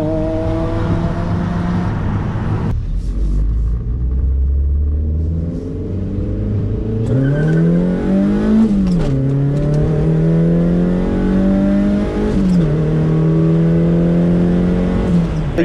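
A car engine with an enlarged aftermarket exhaust idles with a deep, throaty rumble, then revs up several times in loud rising and falling bursts.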